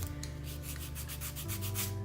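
A nail file rubs steadily back and forth over a 3D printed mask, a continuous close scratchy sanding with a quick stroke rhythm and no talk.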